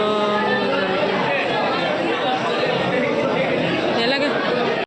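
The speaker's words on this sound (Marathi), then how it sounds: "गर्दी बघा, पालखी आले ना" Dense crowd chatter at a Hindu temple as a palanquin procession arrives, many voices overlapping into a steady, loud murmur that holds throughout.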